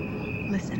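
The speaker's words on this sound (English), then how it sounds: "What you are hearing is a recording of crickets." Recorded crickets chirp in a steady, high, continuous trill over a soft night background, while a voice speaks briefly.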